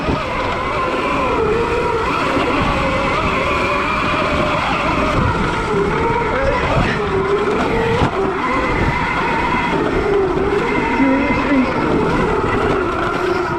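Zero electric dirt bike running on an 80V lawnmower battery, ridden over muddy trail with a hairpin turn; a steady whining motor drone mixed with scuffing tire and ground noise, continuous and fairly close, with no talking.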